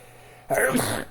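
A single sharp sneeze bursts out abruptly after a quiet moment, close and loud.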